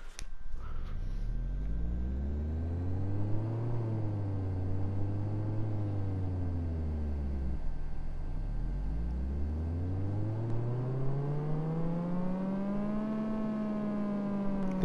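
A Mazda RX-7 engine revs on a dyno in a racing video game, a loud steady drone that climbs, dips slightly, falls back to idle, then sweeps up again and holds high, with no talking.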